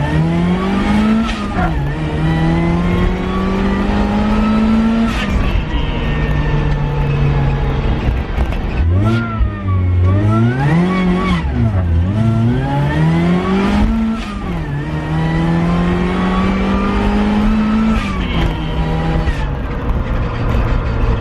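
A supercharged offroad Mazda Miata roars loudly under hard acceleration, its engine note climbing and dropping through several surges as the clutch slips and tires spin, continuous and close with no talking.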